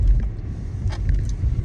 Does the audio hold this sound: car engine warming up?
yes